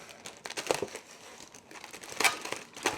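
Taped plastic packaging is crinkled and torn away from a stand mixer splatter guard, close-up bursts of crumpling and crinkling with short pauses, no talk.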